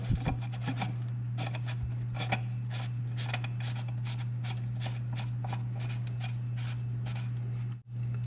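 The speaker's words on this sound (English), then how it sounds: "once it's in place, simply screw it back on." Close scraping and rubbing as a new oil filter is twisted back on by hand on a Jeep Wrangler, a series of short gritty turns over a steady low hum.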